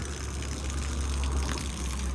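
Water gushing steadily from a tyre on a farm near Nashik, Maharashtra, as a man drains it, a continuous close rushing flow with no talking.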